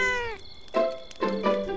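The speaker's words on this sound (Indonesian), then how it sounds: "Kucing?" A giant cartoon cat-cactus creature gives a drawn-out meow followed by two shorter ones, close and clear with nothing else around.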